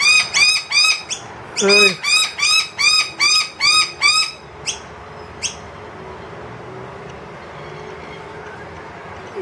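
Noisy miner birds calling indoors, a rapid series of loud, shrill, evenly spaced chirps repeated in a burst, then a few isolated calls and quieter background. A voice speaks briefly.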